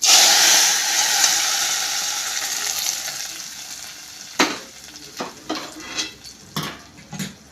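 Tempering poured into a Kerala-style dal and palak curry gives a loud, hissing sizzle that slowly fades, followed by several sharp clinks of a spoon or utensil against the pot.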